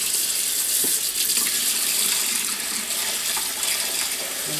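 Cold tap water runs steadily over tomato seeds held in a kitchen strainer, a continuous close hiss and splash of rinsing for the whole stretch with no one talking.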